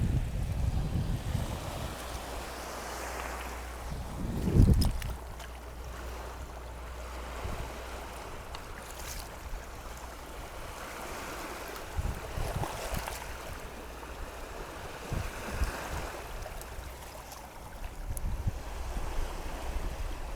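Water laps softly at the edge of the River Thames during a mudlarking outing, a low continuous wash with wind noise and a brief louder splash, no voices.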